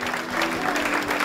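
A church congregation claps hands together in a dense, continuous burst, loud and close, with voices mixed faintly beneath.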